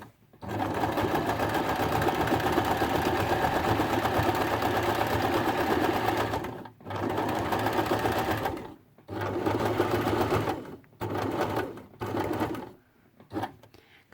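A sewing machine stitches fabric, running as a close, steady mechanical whir in one long burst, then in several shorter runs separated by brief pauses.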